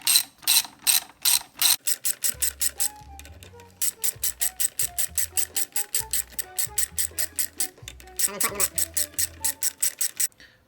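A ratcheting torque wrench tightens the clutch cover bolts on a Yamaha XVS650 motorcycle, heard as rapid, close clicking bursts in repeated strokes with brief pauses between bolts.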